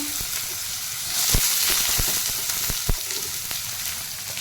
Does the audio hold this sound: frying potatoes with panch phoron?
yes